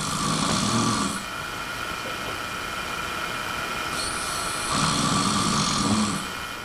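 A person snores in two drawn-out, rasping breaths about four seconds apart, each rumbling low and fairly loud, with quiet breathing in between and a steady background hum, no talking.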